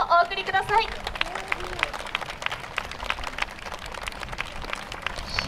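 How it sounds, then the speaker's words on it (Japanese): Applause from an audience after a Kiryu Yagibushi festival dance performance at an outdoor furusato festival at Yokohama Red Brick Warehouse, a steady patter of many hands clapping throughout, with a brief voice at the start. "今一度大きな拍手をお送りください。"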